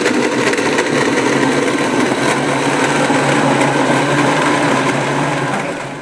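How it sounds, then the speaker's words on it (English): A Blendtec blender on its extra large smoothie setting grinding almonds with water, a loud continuous high-pitched motor whir that holds steady and then begins to wind down at the end. "This is a Blendtec blender, and I'm going to put it on the extra large smoothie"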